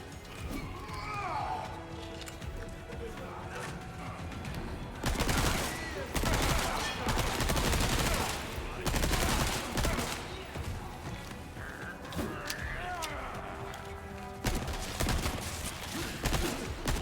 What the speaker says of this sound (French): j'ai tiré ici, du coup ça a cassé les caisses